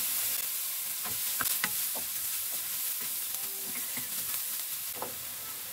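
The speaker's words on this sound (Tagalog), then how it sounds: "lagay tayo ng mantika. Lagay natin itong ating sibuyas. Itong ating bawang." Onion and garlic fry in oil for stuffed milkfish, a soft continuous sizzle with scattered utensil clicks and light stirring, close and steady with no voices.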